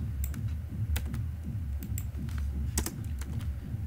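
A login is typed on a computer keyboard in a few scattered, crisp keystrokes over a low steady background hum, close, with no talking.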